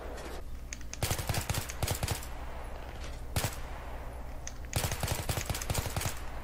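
Rapid automatic gunfire bursts in Battlefield 3 team deathmatch on Caspian Border, several clusters of loud cracking shots separated by short pauses over a steady low background rumble.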